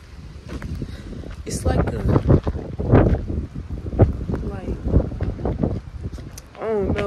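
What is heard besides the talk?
strong wind outdoors before a storm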